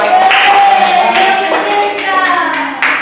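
A class of fourth-grade elementary pupils claps and taps hands together in quick, close, loud bursts, with a voice briefly heard over the applause.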